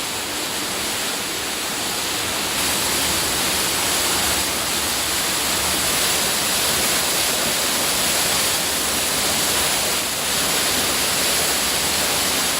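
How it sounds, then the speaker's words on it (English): Loud, steady roar of a flooded underground stream cascading heavily in St Cuthbert's cave, a dense continuous rushing with no pauses, close and enveloping. "Amount of water coming down there, that's very impressive"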